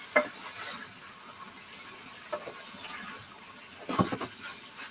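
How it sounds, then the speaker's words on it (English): Quiet, steady sizzling of beef stir-frying in a wok with black beans and cashews, with a few clattering stirs and scrapes, the loudest near the end. "Is it good sound effects, guys? All the sizzling."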